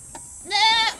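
One goat gives a single loud, close, wavering bleat lasting about half a second.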